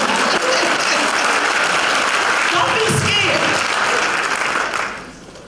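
Applause from the audience at a Women's History Month assembly, a dense, steady wash of clapping that holds for about five seconds and then quickly fades out.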